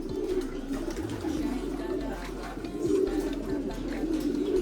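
Pigeons coo steadily in a low, rolling drone, several birds close by and continuous over faint background noise, with no talk.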